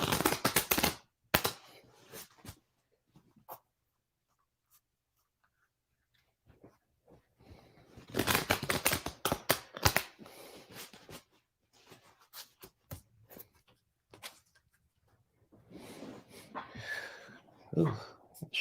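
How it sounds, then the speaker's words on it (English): Bursts of papery riffling and slapping as an oracle card deck is shuffled, several separate rounds with quiet gaps, and a voice murmuring near the end. "Let me shuffle this again."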